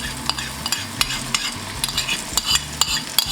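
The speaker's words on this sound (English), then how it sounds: "So you're just gonna add the yellow of the egg to your pan." Three egg yolks cooking in a hot frying pan, a steady close sizzle broken by repeated sharp scraping and tapping strokes of a utensil against the pan, with no talking.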